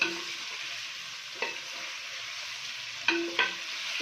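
Curry leaf chicken fries in a pan with a steady close sizzle and crackle, broken by a few brief stirring scrapes, no voices.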